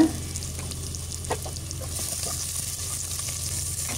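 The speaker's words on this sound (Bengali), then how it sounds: "এই তেলের মধ্যে আমি দিয়ে দিলাম কাটা পেঁয়াজ, রসুন, কাঁচামরিচ, দিয়ে দিলাম গোটা মশলা" Chopped onion, garlic, green chilies and whole spices frying in plenty of oil for chicken with moong dal, giving a steady close hiss and crackle that stays even throughout, with a few light clinks.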